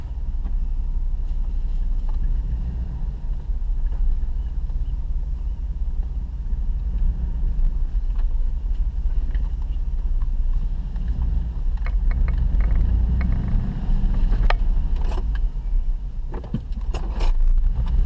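Steady low rumble of a 2006 Dodge Dakota pickup driving after a front wheel bearing replacement, with road noise, wind buffeting and occasional rattles and clicks throughout; no talking.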